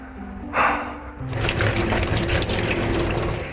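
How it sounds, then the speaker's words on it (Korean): Cold tap water runs steadily over pork ribs in a kitchen sink, a close, continuous splashing rush that starts after a short burst of water and keeps going to the end. "차가운 물에 씻어주면 돼요. 흐르는 차가운 물에."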